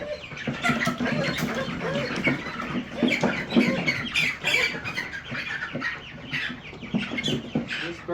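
Broiler chickens clucking and squawking in a steady, busy chorus nearby, with scattered overlapping calls and no talk.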